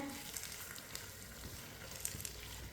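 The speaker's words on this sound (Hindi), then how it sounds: "अब टमाटर को 4-5 मिनट के लिए पका लेंगे। चूल्हे की आंच को मैंने मीडियम रखा है।" Tomatoes cook in a pan over medium heat for a Hyderabadi chicken biryani, making a faint, steady low sizzle with a few soft scattered clicks from the pan and no talking.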